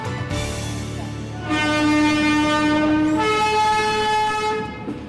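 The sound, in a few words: train passing with horn at New Delhi railway station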